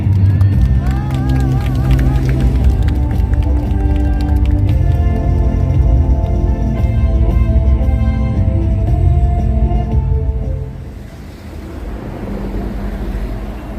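A large crowd at a labor union rally claps loudly and steadily as a speaker is welcomed, with an amplified announcer's voice over the applause, which eases off near the end.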